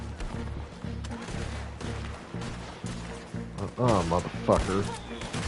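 Gunfire in Red Dead Redemption 2 during a fight with the army, repeated bursts of shots over steady game noise, with someone talking and cursing loudly over the action near the end.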